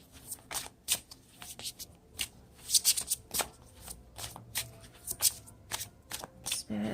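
Tarot cards are shuffled by hand in a quiet room, with a rapid, uneven run of soft papery riffles and slaps close to the microphone, and no talk over them.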